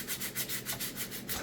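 Wood for a small greenhouse is sanded by hand in steady back-and-forth strokes, an even rhythmic rasp that stays close and moderately loud, with no talking.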